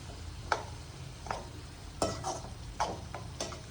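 Fried potatoes are stirred into a Marathi-style potato rassa curry in a pan, a soft low sizzle with a handful of distinct spoon scrapes and taps against the pan at irregular intervals, close and quiet.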